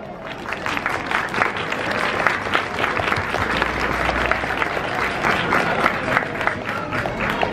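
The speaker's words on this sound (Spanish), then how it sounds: "La recibimos con un fuerte aplauso." Sustained applause from a large audience at a folk festival, dense steady clapping filling the whole stretch without a break.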